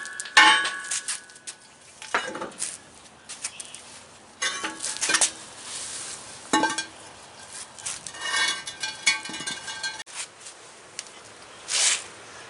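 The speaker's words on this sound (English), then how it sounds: "smack it with a sledgehammer right on the corner here" A sledgehammer strikes a truck brake drum on a 1997 big truck during a steer axle brake job, sharp metallic clangs ringing out repeatedly at irregular intervals, loud and close, with quieter clinks between blows.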